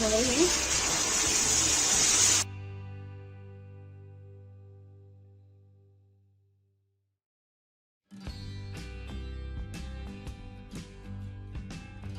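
Strained beef stock (yakhni) gushes loudly into a pot for beef pulao in a brief, splashing pour, which is cut off abruptly by a fading musical tone, a pause and then music.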